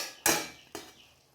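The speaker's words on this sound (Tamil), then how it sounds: "இதை நல்லா எண்ணெயில் நல்லா ஒரு கொதி வர வரைக்கும் கிண்டி விடுங்க." Metal spoon scraping twice against a pan while masala powder is stirred in hot oil for a South Indian fish curry; two sharp, close clinks with a brief fading rasp after each.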